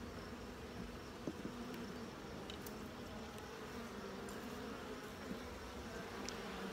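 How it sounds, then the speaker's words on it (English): Honeybees foraging around open hive frames make a faint, continuous buzzing hum close by, steady throughout with no talking. "So these bees are actively foraging."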